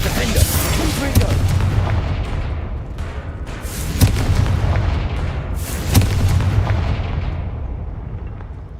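Repeated booming spell blasts from Confringo in the wizarding video game Hogwarts Legacy, three heavy bursts landing about every two seconds over a dense, rumbling combat din.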